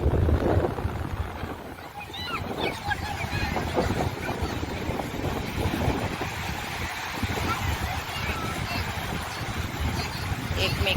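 Sea waves washing onto Kelva beach, a continuous rushing surf mixed with wind buffeting the microphone, while a voice talks over it.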